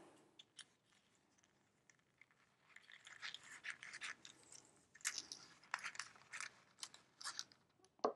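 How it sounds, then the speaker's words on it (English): A Decofoil toner sheet being cut to size with scissors for a mixed media craft project, heard as quiet, close snips and crisp rustling of thin sheet material in irregular bursts. "I'm going to cut this to size"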